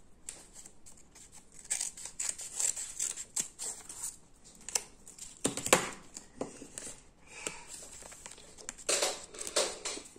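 Plastic packaging from a sweet box is snipped open and crinkled close up, with irregular crackling rustles and scissor snips coming in clustered bursts, quiet overall and without speech.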